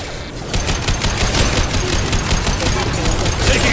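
Heavy automatic gunfire in the video game Mass Effect 2, a dense rapid stream of shots that carries on without a break for several seconds.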